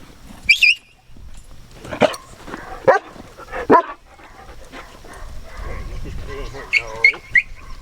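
A herding dog barks and yips in a few sharp, separate bursts outdoors, with a person talking in between.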